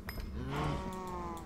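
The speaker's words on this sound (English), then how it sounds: "That cow tried to juke me, but I killed it instead." A cow in the video game Minecraft gives a single drawn-out moo, low and slightly wavering, heard clearly on its own for about a second and a half.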